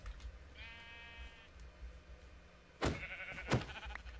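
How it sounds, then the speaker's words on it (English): Sheep bleating in the Minecraft video game, a held, buzzy in-game bleat followed about a second later by two shorter, louder bleats, all standing alone over a faint background hiss. "Sheep, I want you. Give me your wool"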